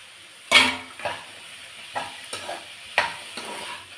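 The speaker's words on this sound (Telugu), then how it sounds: "ఇప్పుడు ఏం చేయాలంటే ఈ టమాటాలు వేగాక స్వీట్ కార్న్ గింజలు ఉన్నాయి కదా, ఇవి వేసేయండి" Sweet corn kernels tipped into a pan of frying tomatoes for a coconut milk and carrot juice curry, a sharp clatter followed by soft sizzling and several light stirring scrapes, close up.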